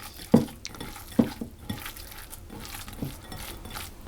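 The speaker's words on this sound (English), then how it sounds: "Until the sage and the onion is all mixed in," Sage and onion are stirred into sausage meat in a bowl, producing soft, wet squelching and scraping with a few louder knocks of the spoon against the bowl, close and fairly quiet.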